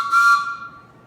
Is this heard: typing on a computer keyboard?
no